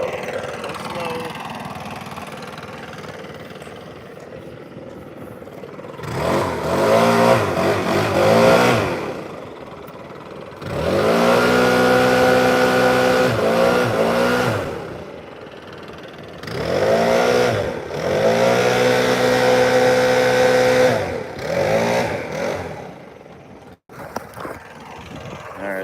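A leaf blower runs near a riverside sidewalk, its engine whine surging up and dropping back in several long loud bursts separated by quieter pauses.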